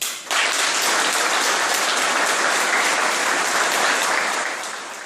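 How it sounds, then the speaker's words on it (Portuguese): A crowd at an anniversary and new-member inauguration ceremony breaks into sustained applause, dense and steady clapping that holds strong for several seconds before easing slightly at the end. "Uma salva de palmas."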